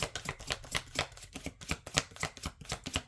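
Oracle cards shuffled by hand during a spiritual card reading, a rapid run of crisp papery riffles and slaps repeating steadily for about three seconds, close and fairly quiet, with no talking.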